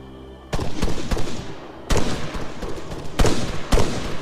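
Gunfire in an Arma 3 night firefight, with loud bursts of shots cracking out in several clusters over a continuous din of battle noise, no talking.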